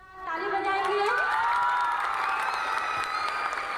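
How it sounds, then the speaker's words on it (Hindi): Audience applause at a children's model exhibition event, with cheering and children's voices, rising quickly and holding steady and loud. "ताली बजाएंगे।"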